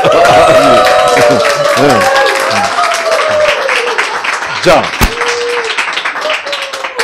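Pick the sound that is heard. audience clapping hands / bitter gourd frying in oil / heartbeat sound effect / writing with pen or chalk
audience clapping hands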